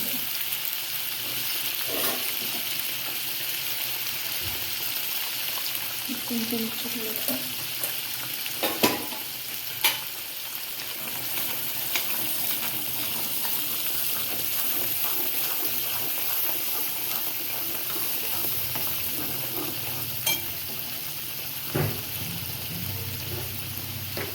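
Turmeric roasting in a pan with masala for palak paneer, with a steady close sizzle throughout and occasional sharp scrapes and taps of the stirring spoon.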